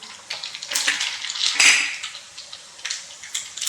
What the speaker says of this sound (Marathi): तेल गरम झालं आहे यामध्ये आपण मोहरी टाकून घेऊ